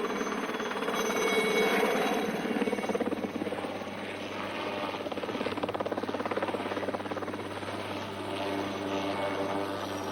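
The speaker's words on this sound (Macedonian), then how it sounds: "Хеликоптер" A helicopter hovers nearby with a steady whirring drone of its rotor that continues evenly and fairly loudly throughout.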